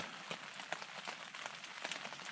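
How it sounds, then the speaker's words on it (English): Steady rain patters on a tent and the ground at a lakeside campsite on a canoe circuit, a dense, continuous hiss with scattered louder drops, close and alone. "rain I think is gonna be here for the night."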